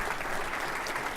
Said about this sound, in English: No, that's worth applause.